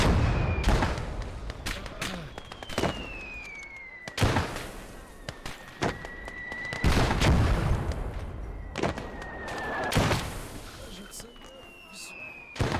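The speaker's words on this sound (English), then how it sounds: "Watch where you're shooting that thing." War video game battle with repeated gunfire and heavy artillery blasts landing in bursts every couple of seconds, loud and close, with whistling shells between impacts and someone talking over the noise.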